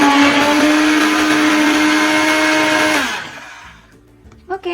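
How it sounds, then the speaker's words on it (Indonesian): A hand blender whirs loudly and steadily through Semar Mendem ingredients for about three seconds, then winds down and cuts off, followed by a near-silent gap and a couple of light knocks and clinks. "Saya mau menggunakan hand blender"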